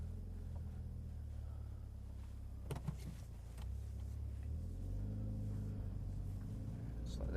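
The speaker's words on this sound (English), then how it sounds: "Just let the car warm up as well." A Mitsubishi Evo X MR idles while warming up on a snowy day, a low steady engine rumble with some rustling and a brief mechanical clatter midway.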